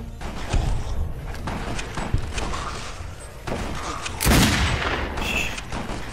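Gunfire during Fallout: New Vegas gameplay in Ghoul City, heard as scattered shots and thuds against a busy game background, with a sharper, louder burst near the end.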